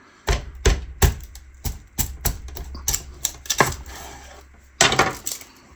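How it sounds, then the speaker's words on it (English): A knife cuts an onion in half on a cutting board, giving a series of sharp, close chopping knocks in an irregular rhythm with short pauses between them and no voices. "cut it in half"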